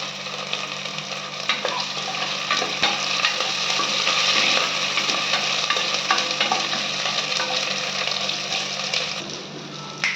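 Onions with a little salt sautéing in a pan for mushroom biryani, a steady close sizzle and crackle with occasional scraping and stirring, continuous and fairly loud, no voices.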